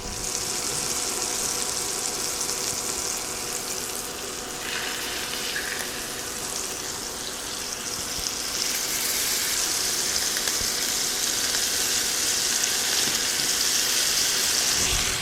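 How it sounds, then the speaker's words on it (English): Filet mignon steaks sizzle loudly in a hot pan, a dense, steady crackling hiss that carries on without a break. "Oh, you hear that sizzle? That's exactly what we want to hear."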